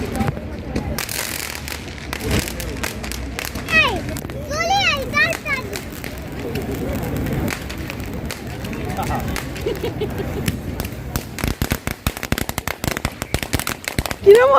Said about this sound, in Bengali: তুবড়িটাকে জ্বালিয়ে তুবড়ি জ্বালাবো